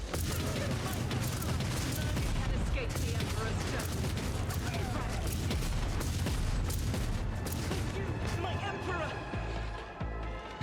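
Dense, continuous gunfire rattles through a battle in the video game Rogue Trader, with rapid bursts and booms layered together under a speaking voice, easing slightly near the end.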